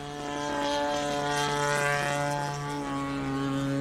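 A Phoenix Stinson Reliant RC model airplane's propeller motor revs up close by, its steady harmonic drone holding strongly for about four seconds with no talk.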